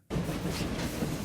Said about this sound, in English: Dispatch our blue train.